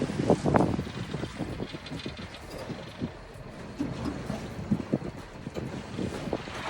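A boat idling in thick fog on open water, with a low uneven engine rumble under gusty wind buffeting the microphone and faint lapping water, no voices.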